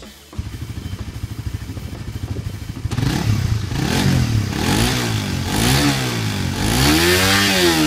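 Suzuki GSX-S150 naked 150cc sport motorcycle with a twin-outlet exhaust, its engine idling with a steady low putter, then revving in a few rising and falling sweeps, loud and close, with no talk.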